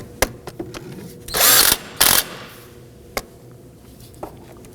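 On a 2005–2009 Subaru Legacy strut, a power tool tightens a bolt in two loud, whirring bursts, each lasting a few tenths of a second. Sharp metallic clicks and knocks come before and after.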